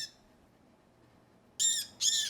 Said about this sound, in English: A tufted titmouse also snagged itself in the net.